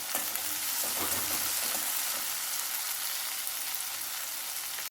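Onions sauté in a pan with salt for a green manathakkali kuzhambu, giving a continuous soft sizzle and frying hiss with a few faint stirring clinks, steady and alone.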